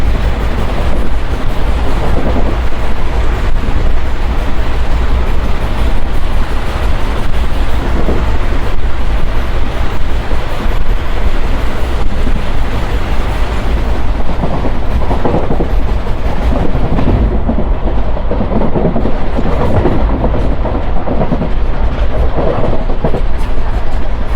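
Palnadu Superfast Express, an ICF-coach train running Guntur to Vikarabad, rolls slowly across a bridge, a loud steady rumble with rhythmic wheel clatter and wind buffeting throughout, no voices.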